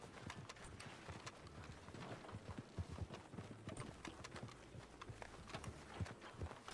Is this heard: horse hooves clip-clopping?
yes